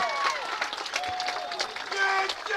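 Baseball crowd cheering and applauding after a leadoff triple, a broad steady roar with scattered whistles and shouts, sustained for the whole moment at moderate distance.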